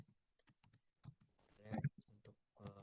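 Quiet clicks of typing a command on a computer keyboard, a sparse run of light keystrokes with someone speaking softly over them.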